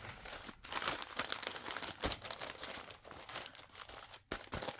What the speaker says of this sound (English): we're going to open that little bend and we're going to fold this one